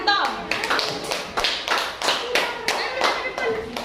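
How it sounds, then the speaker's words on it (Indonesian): Schoolchildren in a fourth-grade classroom clap in a rhythmic patterned beat, roughly two claps per second in distinct bursts, with children's voices audible underneath. "Tepuk tangan dulu untuk kelompoknya Tom"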